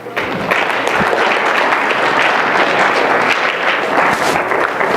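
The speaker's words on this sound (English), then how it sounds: "please give a round of applause for your parents" Athletes applaud their parents at a sports science presentation, producing a brief, loud burst of dense, continuous clapping.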